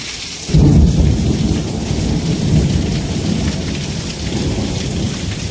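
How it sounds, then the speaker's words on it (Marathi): A dense monsoon downpour roars close and loud, with a deep thunder rumble swelling after the first half second and rolling on beneath the steady rain. "यंदा यरवाळीत पाऊस चालू झालाय"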